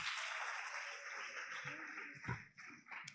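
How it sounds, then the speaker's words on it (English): A school debate audience applauds the debaters, a steady wash of clapping from a crowd that holds for a few seconds before thinning toward the end. "join me to give one more round of applause to our debaters"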